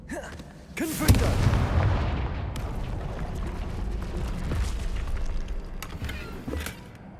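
The Confringo fire spell in Hogwarts Legacy bursts with a sudden deep boom, followed by a long crackling, rumbling tail of debris and flames that gradually fades, with a few sharp ticks scattered through it.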